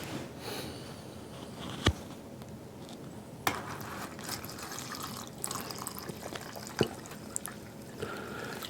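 Homemade single malt whiskey trickles through a filter into a bottle in a brew house, a soft running pour broken by a few sharp knocks and clinks.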